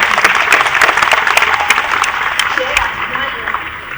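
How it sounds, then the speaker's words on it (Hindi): An audience at a festival session claps loudly and thickly in appreciation of a speaker, the applause gradually thinning out, with a voice speaking over it. "लेकिन सबसे पहले एक बार जय जी के लिए जोरदार तालियां"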